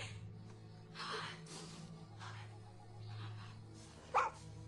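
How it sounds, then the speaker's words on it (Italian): A dog indoors lets out a few soft, scattered barks and yips among quiet rustling, fairly faint, ending in one brief sharper yelp near the end; no one speaks. "Perché abbaia?"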